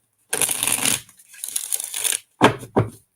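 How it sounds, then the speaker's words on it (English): A deck of cards is shuffled in a couple of crisp riffling bursts, followed by two short sharp snaps, close and clear with no talk. "We'll do one more big shuffle here."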